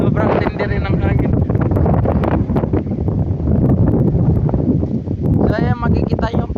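Strong gusts rumble and roar across the microphone while a person speaks over the noise.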